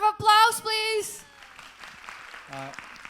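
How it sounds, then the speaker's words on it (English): Applause breaks out briefly from an audience at a UNESCO SDGs education forum, a short burst of clapping mixed with a voice, then quieter talk follows. "Please give a round of applause, please."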